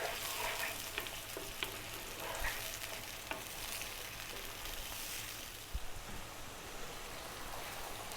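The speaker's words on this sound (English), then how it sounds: "Let's really cook out those tomatoes." Tomatoes fry over fairly high heat in a pan for a chicken cream sauce, with a constant close, soft sizzle and a few light stirring clicks, with no voices.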